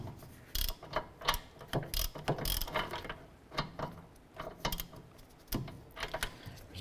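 A ratchet tightening the upper rear brake bolt on a 2008-2012 Honda Accord, bursts of close, sharp clicking strokes separated by short pauses, with no talking.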